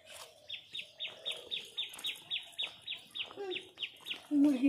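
Chickens around a chicken coop give a steady series of short, bright repeated calls at a fairly even rhythm, fairly close, with a louder clucking burst at the end.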